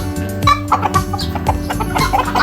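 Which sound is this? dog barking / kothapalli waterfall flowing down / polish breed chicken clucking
polish breed chicken clucking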